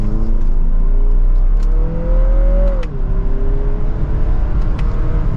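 A 2023 Lexus NX350 F Sport pulls hard from second gear, its engine note rising steadily, dipping briefly at a shift, then droning on over constant road and cabin rumble.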